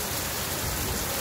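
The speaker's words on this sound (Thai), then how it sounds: "ฝนตกแบบหนักพอสมควร บรรยากาศฝนตกแรง" Heavy rain pours at the Seatran ferry pier in Surat Thani, Thailand, a dense, steady hiss of downpour drumming on surfaces, loud and continuous with no voices.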